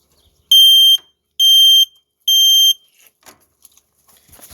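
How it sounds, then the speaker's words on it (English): Fire Sentry smoke alarm under test, three loud shrill piercing beeps in an even rhythm, each lasting about half a second, followed by faint handling sounds. "Now we're going to test the alarm in 3"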